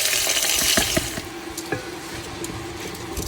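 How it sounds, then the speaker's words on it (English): Rice fried in oil with cinnamon, cardamom and chilies gives a steady sizzling hiss, broken by a few scraping stirs of a spoon in the pan, close and without talk. "Pour in the rice and fry it for a while."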